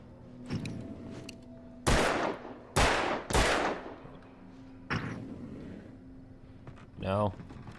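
Gunshots in the video game Alan Wake: a handful of loud, sharp reports, several close together and one later, each trailing into a decaying echo, followed by a brief warbling effect near the end.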